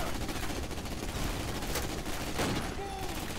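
Rifle and battle fire from an SVT-40 in Call of Duty: United Offensive, a steady crackle of distant shots with a sharper crack near the middle, continuous and moderately loud.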